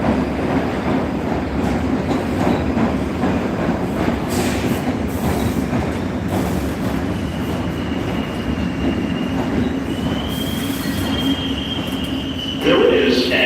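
A New York subway train rumbles loudly at a station platform bound toward the Bronx, with steady wheel and motor roar, a rising squeal, and a burst of hiss near the end; brief voices can be heard faintly underneath.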